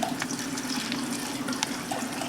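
Tap water runs steadily into a sink while soaked food is being drained, a continuous close splashing hiss with no talking.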